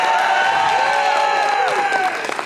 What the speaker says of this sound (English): I want you guys to cheer them on